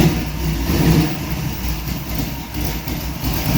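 The engine of a 1964 Dodge Dart race car revs close and loud, rising and falling in quick throttle blips over a rough running rumble.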